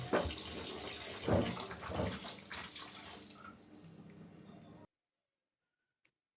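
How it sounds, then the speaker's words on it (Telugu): Raw peanuts, still coated in soil, are rinsed and swished in water for washing, a close, steady sloshing and squishing that runs for about five seconds, then stops, followed by one faint tick. "పల్లికాయ వాటినైతే వాష్ చేసేసుకొని ఉడికించుకోవాలి"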